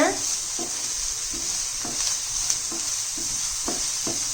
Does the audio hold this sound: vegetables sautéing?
yes